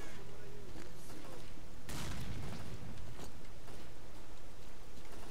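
Video game gunfire during a zombie fight in a Pripyat setting, with a dense burst of shots and booms near the middle, then scattered cracks over steady background noise.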